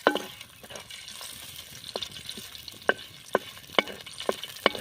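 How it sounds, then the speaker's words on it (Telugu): Bay leaf, clove and cinnamon fry in well-heated oil outdoors by the fields, giving a steady close sizzle with scattered sharp pops and crackles throughout. "బిర్యానీ ఆకు లవంగం పట్ట వేసుకుంటున్నాం."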